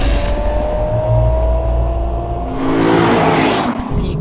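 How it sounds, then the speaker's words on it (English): A rear-drive Lexus IS500 with a naturally aspirated V8 gives a loud, sustained engine roar up close, swelling to a harder, higher rev partway through, with no voices. "this absolutely amazing noise that's coming out of this car"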